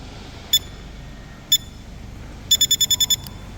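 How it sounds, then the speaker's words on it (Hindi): Remote-controlled door unit beeping during remote pairing: single short electronic beeps at about half-second and one-and-a-half seconds, then a rapid run of seven beeps, fairly loud over quiet background hiss. "ये इस तरीके से कंटिन्यू बीप का आवाज़ आएगा"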